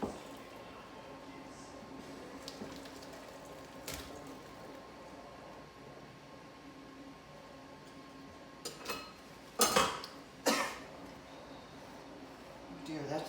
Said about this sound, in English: empty them into a colander to drain them